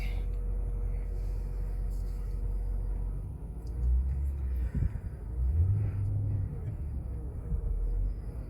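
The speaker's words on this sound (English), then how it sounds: "The car is slipping. It's slipping quite a bit actually." A car engine rumbles low on an icy driveway in an Austin ice storm while the wheels slip. There are steady idling tones, then heavier surges and a short rising whine as it strains, all heard close.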